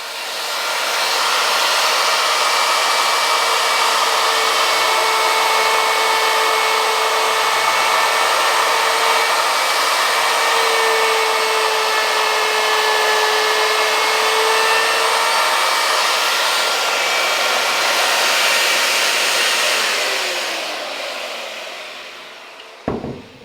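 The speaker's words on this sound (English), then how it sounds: "I'm just carving with the keyhole bit the holes in the back so we can hang a sign on the wall" A router with a keyhole bit cuts hanging slots into the back of a wooden tiki sign, a loud, steady high-pitched whine that holds for about twenty seconds before spinning down, with no voices.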